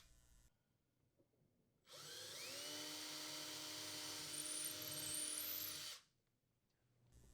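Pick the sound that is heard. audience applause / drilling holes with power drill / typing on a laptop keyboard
drilling holes with power drill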